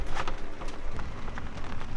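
Rain falls close by on a sailboat, a busy patter of drops striking a nearby surface with scattered sharper taps over a low rumble.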